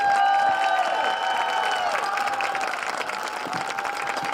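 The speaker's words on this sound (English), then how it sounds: "Let's give one more round of applause for our seniors." Crowd applause for the senior class at a high school football game, East Knox at Danville, a broad sustained wash of clapping and cheering from the stands that stays steady throughout, with a public address voice ringing faintly over it.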